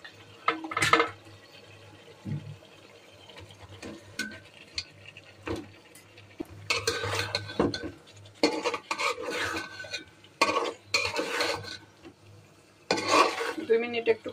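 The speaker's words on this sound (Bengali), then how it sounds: "এখন মাংসগুলো সব দিয়ে দিব একসাথে" Meat goes into a pot of cooked-down spice masala and is stirred, bringing soft sizzling, scraping and clinks of a spoon against the pot in scattered bursts, with quieter stretches in between.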